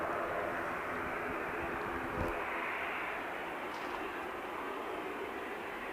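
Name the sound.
Iberia Express airliner taxiing at Manchester Airport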